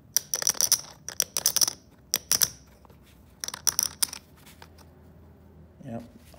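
Hard ceramic poker chips clack together in quick bursts, sharp bright clicks in several clusters separated by short pauses, recorded close up.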